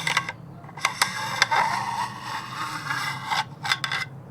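Handle pulled from the bolt of a Daewoo rifle, a close run of rubbing metal scrapes and sharp clicks over several seconds.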